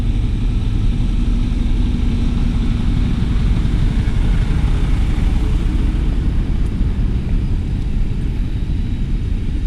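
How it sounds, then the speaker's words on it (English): An airliner on approach to land at Heathrow Airport, heard from a nearby coach park as a steady, loud, low engine roar that continues without a break and has no talk over it. "Here's an aircraft about to land."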